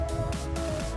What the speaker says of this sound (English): wind noise, because it's a lot of wind out here.